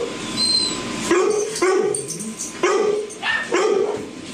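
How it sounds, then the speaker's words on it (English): A boarded dog at a home dog-boarding business growls and then gives several short, loud barks up close, each bark spaced about a second apart. "You gonna growl at me this morning, Bruni?"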